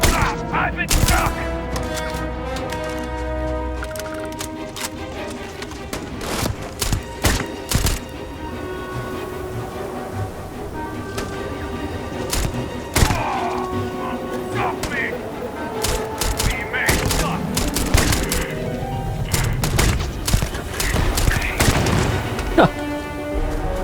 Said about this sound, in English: Oh, dude's got like a minigun.